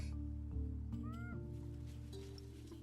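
A cat in a survival game meows in a few drawn-out, rising calls over a steady droning music bed, fairly close and clear with no talking.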